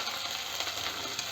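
Cashews and almonds hitting hot fat in a pan while cooking butter chicken, a steady close hiss of sizzling frying with faint stirring clicks throughout.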